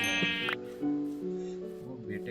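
A sheep in Minecraft lets out a wavering bleat, followed by a second, lower, drawn-out bleat, close and clear with no other sounds.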